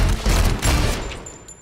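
Rapid movie-trailer gunfire fills the clip, a loud, dense fusillade of overlapping shots with booming low end that comes in several bursts and tails off slightly toward the end.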